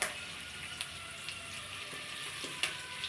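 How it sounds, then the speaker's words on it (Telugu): Chopped onions fry in hot oil with asafoetida and spice tempering for a beetroot fry, a quiet, steady sizzle with a few sharp crackles and pops scattered through it. "వేగిపోయినాయి చూడండి ఉల్లిపాయలు."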